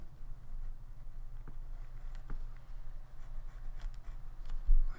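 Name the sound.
pencil tracing over lines on paper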